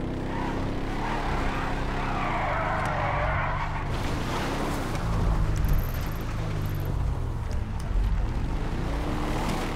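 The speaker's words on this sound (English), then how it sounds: "chopper is landing" A helicopter lands in the video game GTA V, giving a steady loud rotor and engine roar mixed with rumbling game sounds throughout.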